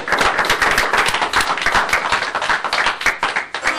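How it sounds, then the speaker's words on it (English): An audience at an atheist forum gives a warm round of applause, loud and close, with dense, continuous clapping that stays strong and even from start to end. "Give yourselves a warm applause."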